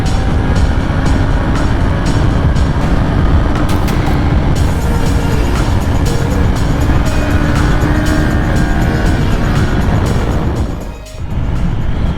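Kawasaki Ninja 400 motorcycle under way, a loud continuous engine drone with heavy wind rush, steady and close, with a brief dip in level near the end.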